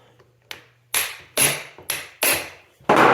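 A manual impact screwdriver is struck by a hammer on a stuck screw during kick-start repair on a 1965 Suzuki K11: six sharp, loud metallic blows in an uneven rhythm, with quiet gaps between them.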